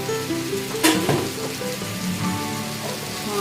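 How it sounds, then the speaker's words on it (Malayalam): Beef peralan masala sizzles in a hot pan as salt is added and stirred through, a steady crackling fry with a few sharp scraping clinks of the spoon. "നമുക്കൊന്ന് മിക്സ് ചെയ്യാം. നമുക്കതിലോട്ട് ഒരു ടേബിൾ സ്പൂൺ ഉപ്പിട്ട് കൊടുക്കാം."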